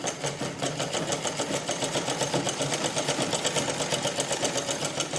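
A sewing machine stitches a can-can petticoat, running steadily and close with a fast, even mechanical rattle that pulses rhythmically throughout, no voices over it.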